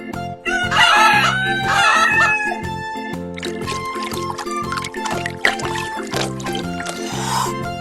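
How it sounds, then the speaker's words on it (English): A cartoon farm chicken clucks in short repeated bursts and crows, loud and close over a bouncy children's music backing, with no speech. "Chicken."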